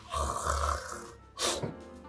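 A voice imitates loud snoring and breathing that stops, with two rough, throaty snore bursts separated by a short pause.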